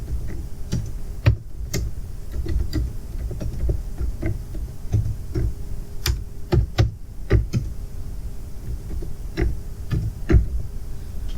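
Keys on a computer keyboard tap in irregular, close clicks and short bursts over about eleven seconds, crisp and moderately loud in a quiet room with no talking.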